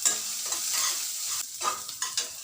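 Tomato puree from three small tomatoes is added to a hot pan for pav bhaji, a close bright sizzle with stirring scrapes that rise and fall in short bursts.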